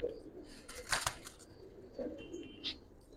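A breeding pair of all-red Giribaz pigeons in a loft in Old Dhaka gives soft, scattered coos, with a short burst of wing flapping near the start, fairly close and quiet.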